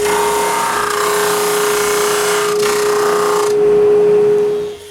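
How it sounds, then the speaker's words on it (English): A drum sander runs a wooden lid for a Quarto board game through, a loud steady machine roar with a constant tonal hum that dips briefly midway then winds down at the end, without speech. "When the glue is dry, I put one lid through the drum sander."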